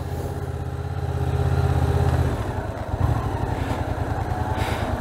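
Motorcycle engine revving up and pulling away after a precision braking stop on a licence test course, a close, loud, throbbing drone that rises then settles into a steady chugging idle-like rhythm.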